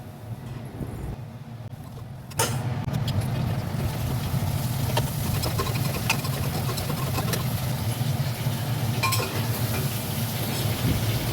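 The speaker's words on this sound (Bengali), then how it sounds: "তারপর আলুগুলো ফেলে দেবো ওই তেলটাতে" Quiet at first, then a sudden loud, steady sizzle of potatoes frying in hot oil that continues without a break, with occasional crackles.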